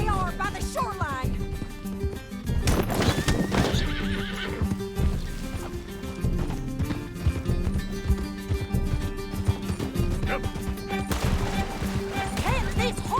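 In Red Dead Redemption 2, horses whinny and gallop with rapid hoofbeats amid crashes and gunfire, with voices shouting over the busy, loud chase.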